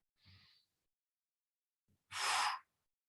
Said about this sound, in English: Taking deep breaths in through the nose, out through the mouth